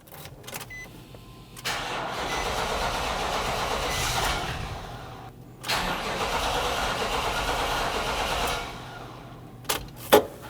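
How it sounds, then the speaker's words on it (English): Nissan NV2500 van with a 5.6L V8 cranks and fires up twice, each start settling into a steady, close, loud idle before cutting off, with a couple of sharp clicks at the end. "Now you want to start your vehicle and depressurize the fuel system."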